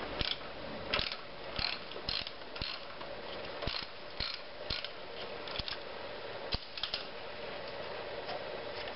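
Hand ratchet loosening the alternator tensioning bolt on a VW Golf, giving a series of sharp clicking pawl strokes in irregular bursts, close and fairly quiet, with no talk.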